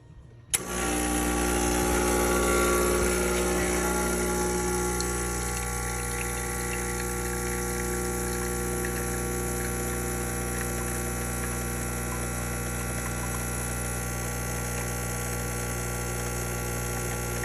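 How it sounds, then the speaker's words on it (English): A Gaggia Classic espresso machine brewing a shot through a bottomless portafilter: its pump kicks in abruptly with a loud, steady electric hum and buzzing drone that continues without break, settling slightly lower after a few seconds. "Let's brew an espresso."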